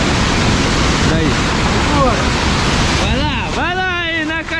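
A waterfall at a campsite roars in a constant loud rush of falling water, with voices calling out over the noise near the end.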